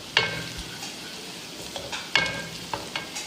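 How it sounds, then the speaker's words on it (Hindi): Onions fry in a pan for masala bharay baingan with a soft, continuous sizzle broken by sharp stirring clinks and scrapes at irregular intervals, heard up close. "ये देखिए हमारे प्याज फ्राई हो रहे हैं"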